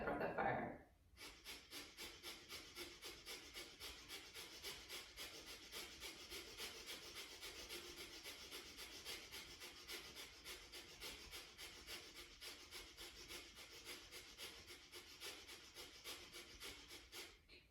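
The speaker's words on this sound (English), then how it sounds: "let's go for that breath of fire." During yoga practice, a rapid breath of fire sets up a fast, even train of sharp nasal exhales that keeps a tight rhythm, following one long breath at the start.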